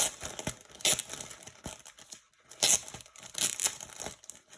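A sealed plastic bag of Stormcast Eternals model kit parts being ripped open by hand, several sharp tearing bursts mixed with crinkling plastic, close and fairly quiet with brief pauses.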